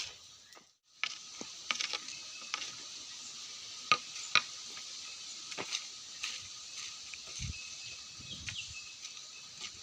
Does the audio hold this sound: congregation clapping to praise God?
no